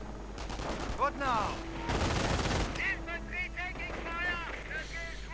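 Machine gun fire crackles in a war strategy video game, rapid bursts mixed with other battle noise under continuous commentary from a talking voice.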